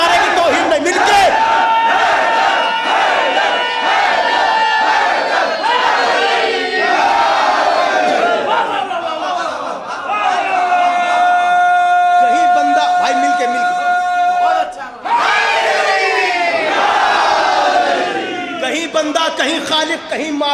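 A large crowd at a religious poetry gathering in Jabalpur shouts a slogan together in loud, sustained unison calls. The chant rises and falls in several waves over roughly twenty seconds and stays dense and close throughout.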